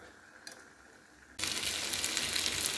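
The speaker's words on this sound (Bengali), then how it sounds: "শুধুমাত্র তলা নেড়ে নেড়ে কষতে হবে" Chicken for chicken kosha is stirred and fried in a pan. A quiet stretch gives way to a sudden, loud, steady sizzle partway through, with no talking.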